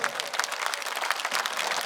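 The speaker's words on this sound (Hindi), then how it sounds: "प्रकाश नारायण जी के लिए भी ताली पाड़ो जोरदार।" Crowd applause at a large Hindu gathering, dense rapid clapping from many hands sustained throughout, loud and steady.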